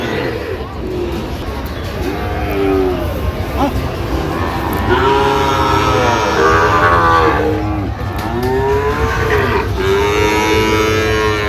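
Sahiwal bulls at a cattle market in Jamalpur give repeated long, drawn-out moos close by, rising and falling over steady crowd babble and people talking.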